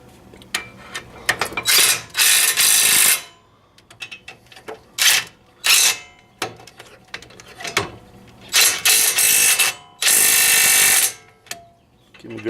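Bursts of rapid mechanical clicking and whirring from a wrench tightening the front brake bolts on a 2006–2012 Mitsubishi Eclipse, loud close spurts separated by short pauses and quieter metallic knocks.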